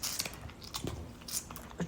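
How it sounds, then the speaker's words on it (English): Someone chews gum close to the microphone, with wet smacking and crunchy bites coming in an uneven rhythm, loud and intimate, with no speech. "You're smacking your gum so loud."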